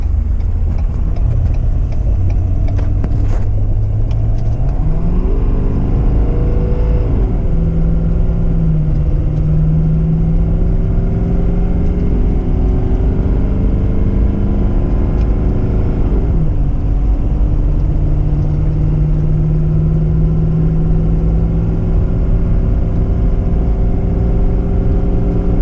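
A new Ford F-350 dually pickup towing about 30,000 pounds accelerates at full throttle, its loud close engine drone climbing steadily in pitch, dropping at a gear change, then rising again.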